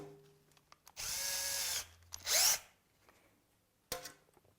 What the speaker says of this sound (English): I drop the impact and go to a conventional drill driver